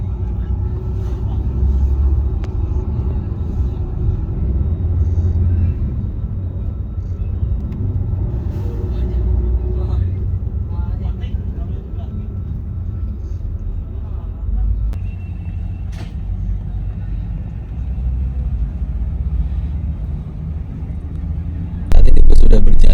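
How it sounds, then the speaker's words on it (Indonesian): A Mercedes-Benz 1626 sleeper bus of PO Haryanto rolls along a toll road from Tanjung Priok toward Pulau Gebang, a steady low engine and road rumble heard from inside the cabin, with a sharp louder burst at the very end. "Saat ini bus sudah berjalan dari Tanjung Priok menuju ke Pulau Gebang"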